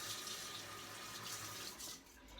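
A kitchen tap runs steadily while a metal measuring teaspoon is rinsed under it during hummus preparation, a continuous close splashing hiss with no talking.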